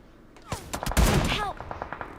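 Gunfire in the mobile battle royale game BGMI: a quick cluster of sharp shots crackles over about a second and a half, fairly loud with no speech over it.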